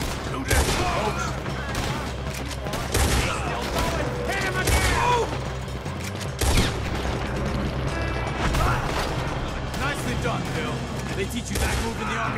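Gunfire erupts in a Red Dead Redemption 2 shootout, repeated sharp shots and booms scattered irregularly across the scene, mixed with crashes and mechanical clicks while characters shout and talk over the fight.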